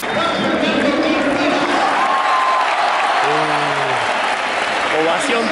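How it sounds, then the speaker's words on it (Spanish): A packed football stadium crowd gives a loud, sustained ovation as River Plate players are announced before a Copa Argentina match against Laferrere in Salta, with continuous cheering and applause, a few rising whistles and a voice talking over it. "llega el momento ese que solo se vive en la cancha, de la ovación, cuando mencionan a cada jugador"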